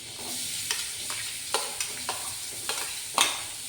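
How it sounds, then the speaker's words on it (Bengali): Chopped onion sizzles in melted butter in a pan for paneer bhurji, a close, even frying hiss punctuated by a handful of sharp spatula clicks and scrapes, with no voices. "বাটারটা মেল্ট হচ্ছে, ওর মধ্যে এবার ধীরে ধীরে কুচি করে রাখা পেঁয়াজটা দিয়ে দেবো।"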